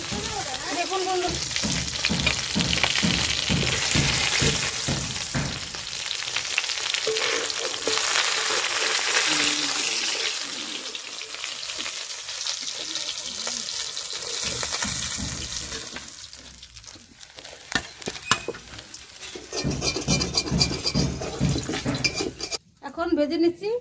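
Dried lentil dumplings (dal bori) fry in a pan for a boal fish recipe, a continuous crackling sizzle with clinks of a utensil against the pan, swelling and easing as they are stirred, under occasional talk.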